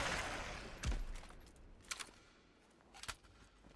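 Submachine gun fire in the post-apocalyptic shooter Atomfall: a loud burst near the start, then sharper shots around the two- and three-second marks, against ambient game noise.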